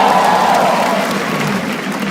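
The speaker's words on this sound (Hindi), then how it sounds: "एक बार जोरदार ताली बजा दो सबके लिए भाई।" At a comedy show, a crowd claps loudly and steadily with some cheering mixed into the close, continuous burst of applause.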